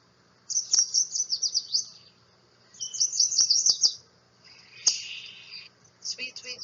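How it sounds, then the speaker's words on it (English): A yellow warbler sings several bright, rapid, high-pitched phrases of sweet whistled notes, separated by short pauses, clear and fairly close over a quiet background. "So here is the song of the yellow warbler."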